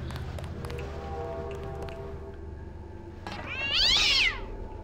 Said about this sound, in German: Das war jetzt keine Absicht gewesen, dass ich auf die Katze drauf tritt.